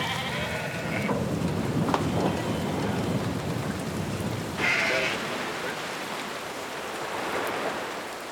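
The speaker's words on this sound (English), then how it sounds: "Heavy rain during shearing. Starting to come down a bit harder now." Heavy rain pours steadily during sheep shearing in the Australian outback, a continuous loud hiss with distant thunder and sheep bleating at times.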